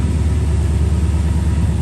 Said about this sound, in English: But it's running and it's idling and it's driving.